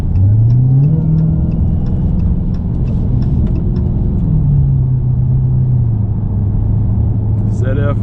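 A 2019 Dodge Challenger Hellcat Redeye with a supercharged engine pulls hard from inside the cabin, its deep rumble rising in pitch as it accelerates, dipping at a gear change, then climbing again, loud and continuous throughout.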